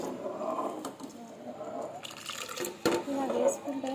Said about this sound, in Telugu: బియ్యాన్ని ఇందులో వేసేసుకుంటాం.